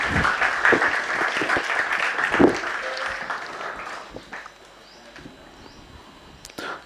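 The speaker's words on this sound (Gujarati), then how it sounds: "આપણે જોરદાર તાળીઓથી આ સ્વાગતને વધાવીએ" Audience applause at a spiritual gathering welcoming a nun, offered a khadi handkerchief and a book: loud, dense clapping for about four seconds, then tapering to a faint scatter.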